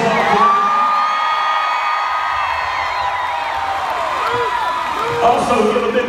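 A big outdoor concert crowd at a country show in Burgettstown, Pennsylvania, cheering, whooping and clapping for a performer. The roar is loud and sustained and blends into a dense wash of shouts and applause throughout.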